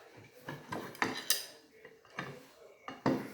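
Metal clanks and knocks from a camping jaffle iron being swung shut over buttered bread, several sharp close hits in an uneven rhythm.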